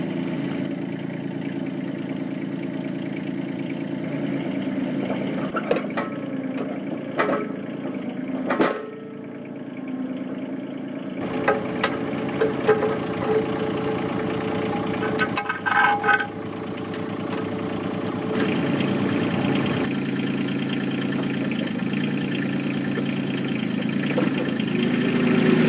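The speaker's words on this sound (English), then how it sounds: "Now we're going to go ahead and fire the tractor up and move the backhoe around." A 4x4 tractor engine idles and runs steadily while its hydraulics move a backhoe, with clanks, shifts in load and brief metallic knocks over a continuous close drone.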